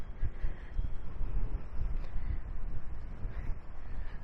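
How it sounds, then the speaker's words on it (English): Gusting wind buffets the microphone on a harbourside walking trail in Dartmouth, Canada. It makes a continuous low, rumbling roar for the whole stretch, with no talk. "I apologize if you can hear the wind."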